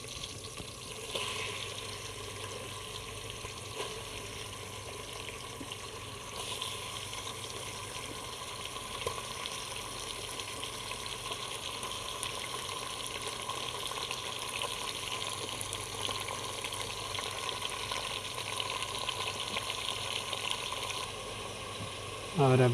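Chicken meat sizzles in a hot pan for a chicken shorba curry, a steady close hiss that runs unbroken for over twenty seconds, with a brief clatter at the very end.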